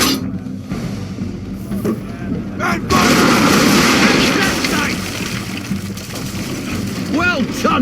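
A frigate's cannons fire a broadside in Assassin's Creed 3: a loud, rolling roar of heavy shots that swells and lingers over the sea, with a voice calling out near the end.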